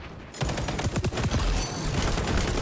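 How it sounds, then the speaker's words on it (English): Rapid automatic gunfire from an assault rifle in the shooter game XDefiant, shots fired through a wall, a dense loud burst of repeated cracks starting abruptly and continuing steadily to the end. "He shot me through the wall!"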